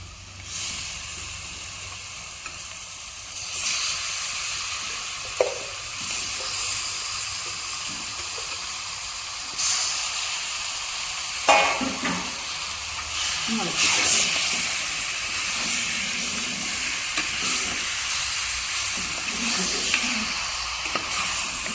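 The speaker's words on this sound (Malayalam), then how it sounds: "ഇനി നമുക്ക് ഇതിനകത്തേക്ക് മട്ടൺ ചേർക്കാം." Mutton pieces go into a pan of sizzling, previously stirred masala for Kerala-style mutton curry, giving a steady frying hiss with occasional stirring scrapes and clatters, fairly close and moderate in level.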